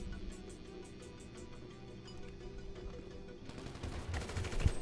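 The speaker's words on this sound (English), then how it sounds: "How am I getting shot at?" Gunfire in GTA V, soft and distant under a steady hum, with a few scattered shots that grow into a denser burst near the end.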